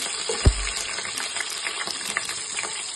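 Green chillies and onions frying in a pan, a steady soft sizzle and crackle with one brief knock of a utensil early on.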